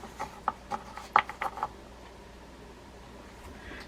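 Soft rubbing and scraping strokes of a cloth wiping old grease from the shaft of a Mitchell 330 fishing reel, a few short close strokes in quick succession, then near quiet.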